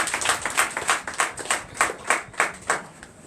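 Rhythmic unison clapping from a church congregation at a testimony service, a dozen or so evenly spaced claps in a steady beat, fairly close and without talk.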